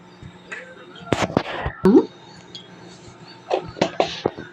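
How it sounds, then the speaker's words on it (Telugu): Tempering seeds crackling in hot oil in a pan for a bean fry, with scattered sharp pops in two clusters, close and fairly loud, and a voice speaking between bursts. "ఆయిల్ హీట్ అయిందండి. తాలింపు గింజలు వేసుకున్నాము."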